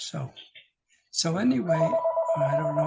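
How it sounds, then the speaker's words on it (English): A telephone rings in a home with a repeating electronic trill, heard under and between a man's speech that continues over it. "Oh, that's my phone over there."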